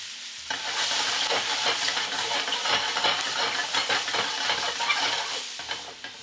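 Mushrooms sautéing in oil in a pan for beef stew, with a steady close sizzle and frying hiss broken by repeated scraping stir strokes throughout, no voices.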